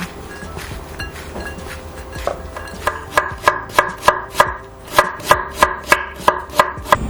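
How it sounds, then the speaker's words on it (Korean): A cucumber julienned with a knife on a cutting board for kimbap filling: sharp, evenly spaced chops that start soft and speed into a steady, loud rhythmic series of about a dozen crisp strikes, with no talking. "오이 한 개는 채 썰어 소금 1티스푼 정도 넣고 절여주세요."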